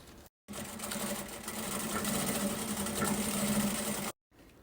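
A sewing machine stitches a strap on a children's 3D backpack in one continuous, steady mechanical whir of fast needle strokes, starting and stopping sharply.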